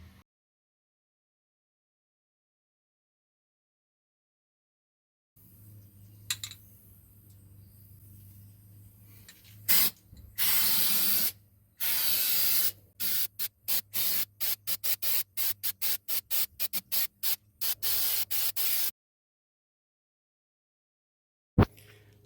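Primer is spray-painted onto a restored car trunk floor, with one long continuous hiss followed by a rapid series of short, regular bursts, close and fairly loud against a low steady hum.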